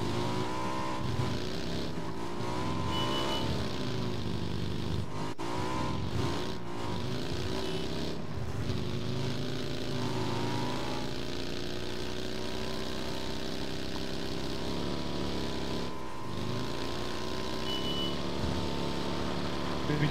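A motorcycle engine in the video game PUBG drones loud and continuous, revving up and down with shifting pitch, joined by other game sounds.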